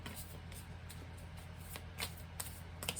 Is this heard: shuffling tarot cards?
yes